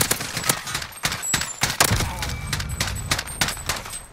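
An M4 rifle in a search-and-destroy video game fires rapid bursts of sharp, crisp shots with an uneven rhythm, loud and close.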